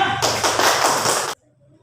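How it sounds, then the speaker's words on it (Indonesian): A classroom of students claps together in a dense burst of applause for two student groups, lasting just over a second before cutting off abruptly into near silence. "Tepuk tangan untuk kelompok 1 dan 2."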